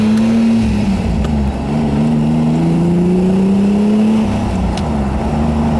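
A custom Ferrari Testarossa convertible, built as a Miami Vice replica, drives on a road test, its engine holding a steady, loud note that climbs and shifts through the gears with no talk over it.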